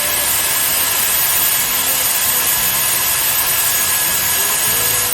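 Dyson hair dryer on its cold shot setting, a steady loud rushing blow with a faint high whine, running alone throughout.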